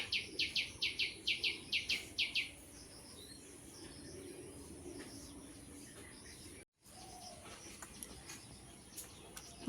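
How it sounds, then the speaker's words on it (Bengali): Small birds call outdoors at evening beside a house, with a quick run of bright repeated chirps up front that gives way to fainter scattered calls over a steady background hum. "এখানে সব সময় পাখি ডাকছে"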